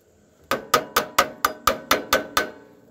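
Eight sharp, evenly spaced metallic hammer taps drive a roll pin into the steering spacer of a lawn and garden tractor, close and loud against an otherwise quiet background.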